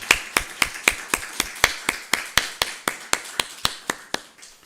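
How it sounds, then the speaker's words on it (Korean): A church congregation at a Sunday service claps in unison, a steady quick beat of sharp, close, even hand claps, about four per second, continuing for several seconds with no talking over it. "하나님께 감사 영광의 박수 올려드리시겠습니다."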